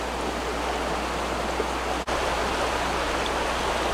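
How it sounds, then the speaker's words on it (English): Small waterfall beside a trail in New River Gorge, a steady, loud, broadband rush of falling water heard close up with no voices. "There's the brink of a nice little waterfall"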